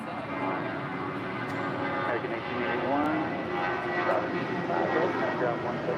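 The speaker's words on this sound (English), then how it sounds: "departing to Salt Lake City with JetBlue Airways, flight 1732 on an A320" JetBlue Airbus A320 jet departing LAX, its engine roar a steady, moderately loud wash heard from a distance, with people talking over it throughout.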